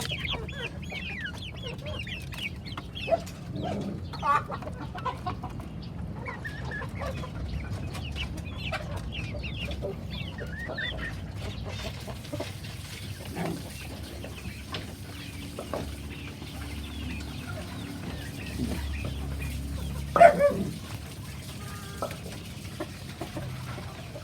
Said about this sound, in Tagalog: 4 yung rooster na meron tayo dito.